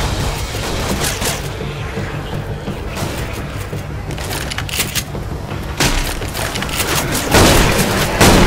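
A grenade explosion in the zombie shooter Left 4 Dead 2 bursts as a loud boom with crackling, splintering debris, layered among repeated impacts and gunfire-like thumps that keep coming through the noisy scene.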